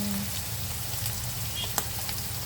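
Shredded chicken sautés in a hot pan for pansit canton, a steady, close sizzling hiss with a faint clink partway through.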